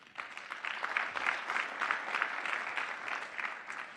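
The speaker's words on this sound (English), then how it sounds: "So another round of applause for Modal." Audience applause at an AI startup award event, steady clapping from a mid-sized crowd sustained throughout at moderate loudness, without any voices over it.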